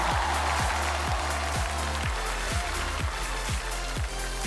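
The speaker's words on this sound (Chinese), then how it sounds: "大家再给他们点掌声好不好？" An audience at a stand-up comedy competition claps together, a dense, steady wash of applause lasting several seconds, with a regular pulsing beat of background music underneath.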